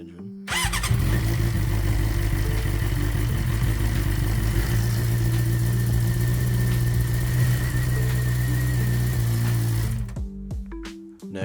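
A 2006-2022 Suzuki GSX-R600 motorcycle engine started and left idling for several seconds, with a steady, loud, even hum and buzz that then shuts off abruptly.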